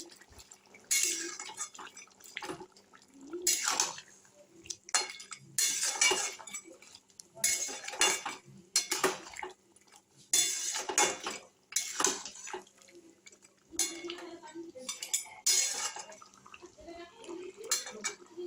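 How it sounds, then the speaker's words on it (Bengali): Fried vetki fish bones being stirred in a pan for a Bengali bone chorchori, with repeated scraping and clinking strokes of a spoon against metal in steady bursts, close and clear, with no talk. "দিয়ে আমি একটু ভালো করে নেড়ে নেব এইভাবে।"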